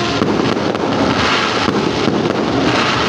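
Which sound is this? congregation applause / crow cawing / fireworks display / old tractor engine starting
fireworks display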